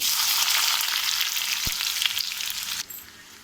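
Sliced onions dropping into hot oil in a pan, a loud dense sizzle that fills the whole stretch and then drops off sharply near the end, close up with no talking.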